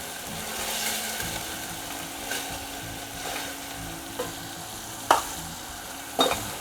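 A spoon stirs chopped tomatoes and a pinch of salt in a pan for moong usal, giving soft scrapes and a few sharper clicks against the metal over a low, steady sizzle, with no talking.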